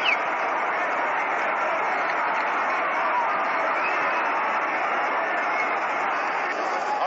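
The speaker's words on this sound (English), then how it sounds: "Joe DiMaggio coming up and getting a nice round of applause." Crowd at the 1937 World Series Game 5, Yankees versus Giants, applauding as Joe DiMaggio comes to bat: a steady, distant roar of clapping and cheering on an old, narrow-band broadcast recording.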